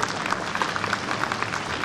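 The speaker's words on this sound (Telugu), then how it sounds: "గట్టిగా చప్పట్లు కొట్టండి" Sustained audience applause at a public gathering in Armoor, with a dense wash of many hands clapping steadily and loudly throughout, no voices standing out.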